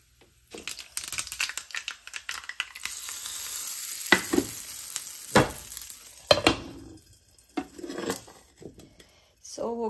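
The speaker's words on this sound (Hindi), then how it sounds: "अब यहाँ पे मैं इसको तड़का लगाऊंगी, तो तड़का के लिए ऑयल डाल लिया है एंड इसमें सरसों, 1 लाल मिर्च एंड करी पत्ता ढेर सारा ले ली हूँ।" Tadka of mustard seeds, a red chili and plenty of curry leaves sizzles loudly in hot oil, with crackling pops, bursts of spluttering and occasional clinks of a spoon against the pan.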